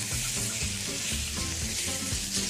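Sausage sears in a hot frying pan with a steady, loud sizzle and spattering crackle, broken by short scraping knocks as the links are shifted and flipped, with no voices.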